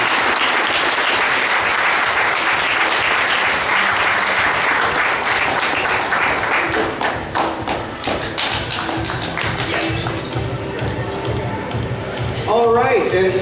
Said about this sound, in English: another round of applause for Julie.